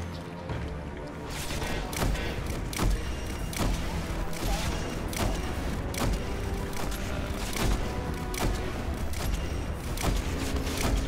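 Video game gunfire: a steady series of sharp shots at roughly regular intervals over a dense, noisy battle backdrop, continuing for the whole stretch.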